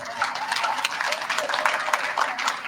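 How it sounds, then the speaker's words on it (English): An audience at a Second Chances Month celebration claps in a moderate, continuous patter that stays fairly quiet and even for a couple of seconds. "Let's give her a big round of applause as well."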